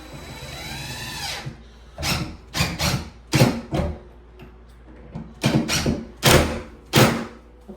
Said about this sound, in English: Put in our screw.